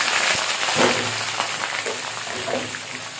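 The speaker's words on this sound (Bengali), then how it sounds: "এবার আমি কেটে রাখা আলু আর পটলটা ভেজে নেব এই তেলের ভিতরে" Cut potatoes and pointed gourd fry in hot oil, a dense, steady sizzle with crackling pops running throughout at close range.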